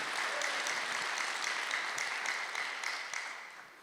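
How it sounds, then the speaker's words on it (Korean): A church congregation at a Korean Sunday worship service breaks into a sustained round of applause, a dense, even clatter of many hands that fades slightly toward the end. "박수 한번 주세요."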